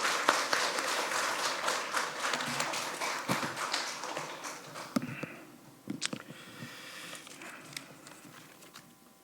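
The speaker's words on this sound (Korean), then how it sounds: "우리 환영의 박수 할까요?" A church congregation at a Wednesday service claps to welcome a missionary forward, a fairly dense patter of hands that thins into scattered individual claps and a few sharp taps as it fades.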